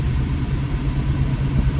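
A car passes by outside with a loud, steady, close road rumble and engine drone filling the whole moment.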